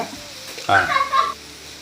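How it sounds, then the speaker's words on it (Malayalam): Ground spices (chili powder, coriander powder, garam masala and black pepper powder) frying and being stirred in a pan for a chicken stir-fry: a short burst of loud sizzling with scraping stirring, then it fades. "പിന്നെ മണം മാറുന്നവരെ നമുക്ക് ഇളക്കി കൊടുക്കാം"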